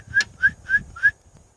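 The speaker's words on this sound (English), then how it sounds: "I whistled 3 or 4 times and they came walking right over." Four short, sharp whistled calls from a person outdoors, spaced evenly and rising slightly in pitch, summoning curious deer; clear and close with quiet pauses between.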